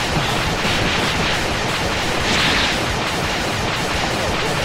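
A spirit bomb attack lands in Dragon Ball Xenoverse 2 during a two-on-two match, a loud, dense roar of blasting and crackling energy that holds steady for several seconds.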